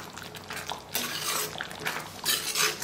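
Mushroom and peas curry stirred and mixed in a pan, with wet, sloshing scrapes and clinks of a spoon against metal in uneven bursts, close and clear.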